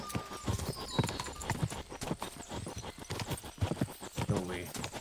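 Hooves of a galloping horse in Kingdom Come: Deliverance 2 pound in a fast, even rhythm over game music, while someone shouts and talks over the clatter.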